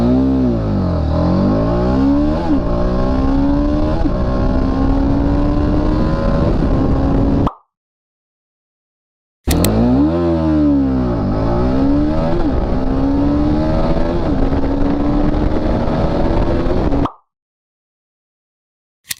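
A motorcycle makes two full-throttle 0 to 100 acceleration runs, engine pitch climbing through repeated gear changes, loud and close, each run ending in an abrupt cut with a silent gap between them.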